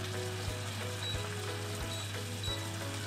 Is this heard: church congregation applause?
no